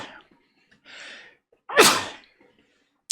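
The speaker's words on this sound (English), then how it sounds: "Hold on, I gotta sneeze." A single loud, close sneeze from an adult man, with a sharp inhale beforehand and a faint breathy rustle earlier, then quiet.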